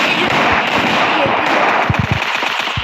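Loud, rapid machine-gun-style gunfire from the video game Free Fire, a continuous rattle with sharper thuds near the end and a voice mixed in.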